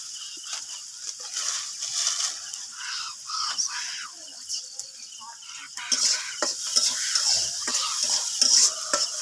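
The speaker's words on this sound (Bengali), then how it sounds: "এই যে পেঁয়াজ মরিচটা হচ্ছে হালকা ভাজা বাদামি কালার হয়ে গেলে তারপরে টমেটোটা দিয়ে দেব।" Onion and chili fry in a pan with a continuous sizzle, broken by frequent clattering scrapes of a spoon stirring against the metal, louder in the second half.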